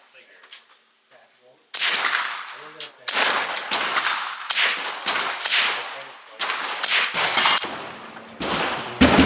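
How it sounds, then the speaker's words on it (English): Suppressed .22 shots fired through a Silencer Co .22 suppressor, a run of sharp close cracks coming in quick irregular bursts after a quiet start, with no talk. "So this is the Silencer Co. 22 suppressor."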